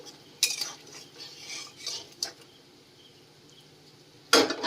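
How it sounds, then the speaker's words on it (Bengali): A spoon scrapes and clinks against a pan as katla fish curry gets mixed after hot water is added, with several separate knocks and a louder final clank, close by and without speech. "এবার এটাকে আমি সবকিছুকে আবার একটু মিক্স করে নিচ্ছি"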